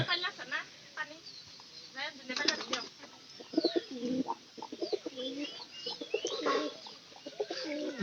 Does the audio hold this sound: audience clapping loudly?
no